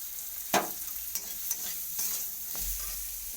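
Tomato, green chili and chili powder hissing in hot oil for a fish curry, a close steady sizzle marked by a few sharp spoon scrapes and taps against the pan.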